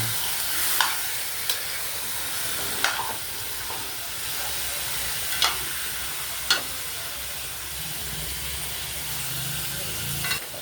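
Chicken adobo sizzling and frying in a pan while being stirred, a steady hiss with scattered sharp clicks of the utensil scraping the pan, close and alone.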